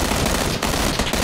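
Rapid bursts of gunfire in PUBG crackle loud and close, a continuous dense rattle broken by a few short pauses, with no talking.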